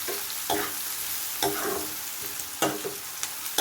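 Turmeric being stirred into a sizzling egg fry mixture in a frying pan, with a spoon scraping in several distinct strokes over a steady background sizzle, close and alone.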